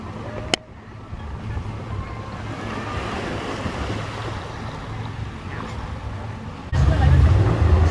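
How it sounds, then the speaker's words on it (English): Waves at a beach in Cambodia wash in a steady, continuous surf roar, with wind buffeting the microphone; a small click comes early and the surge grows louder near the end. "I've been at the beach for the past 5 days, and this is the only footage I got."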